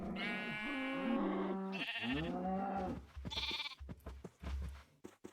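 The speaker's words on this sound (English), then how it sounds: "Didn't I have more sheep in here?" Sheep bleating in a video game, several wavering, nasal bleats in quick succession, loud and close, followed by shorter animal calls and clatter toward the end, with no talking.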